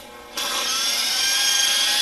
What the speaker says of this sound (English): I'm going to dial down my polisher like I did before, and I'm going to go ahead and turn this on.